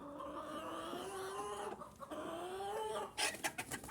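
A bantam rooster and hens cluck close by, drawn-out tonal clucking calls in a continuous run, followed by a few sharp, quick clucks near the end.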